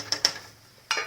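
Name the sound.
stirring rice water in a pot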